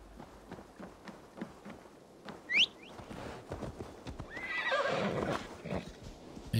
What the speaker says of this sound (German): Ich glaube, das ist mein Pferdchen nach dem Pharao-Style